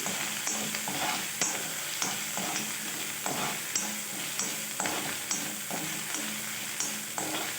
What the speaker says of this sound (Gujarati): હવે આપણે જ્યાં આદુ મરચાં એની પેસ્ટ કરી છે એ નાખી દઈશું. એને તેલમાં એકદમ સાતળી દેવાની છે